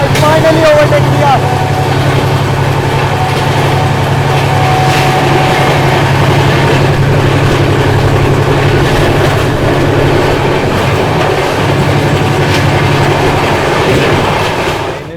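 A Garib Rath coach on the Ranchi route thunders along at around 130 km/h, loud and steady from inside, with a heavy low rumble and clattering wheels that continue throughout the stretch.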